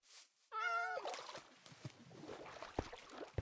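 A cat in the Minecraft video game gives a single clear, high meow near the start, followed by quieter game background sounds.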